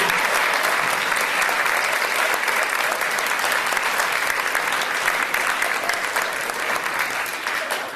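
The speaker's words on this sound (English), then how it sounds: "Let's give him a nice round of applause" An audience at a 1990s magic show gives a volunteer a round of applause, with sustained, dense clapping that stays even for most of its length and then begins to thin slightly toward the end.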